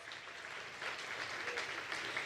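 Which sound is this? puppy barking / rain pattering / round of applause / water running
round of applause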